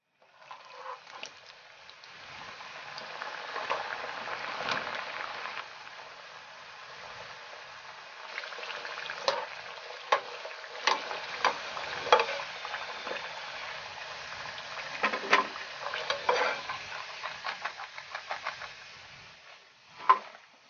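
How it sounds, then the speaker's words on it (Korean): Sweet potato pieces deep-frying in hot oil, a steady close bubbling hiss with scattered sharper crackles and pops throughout, louder bursts near the end. "고구마 이렇게 바스 모양으로 잘 튀겨줬고요"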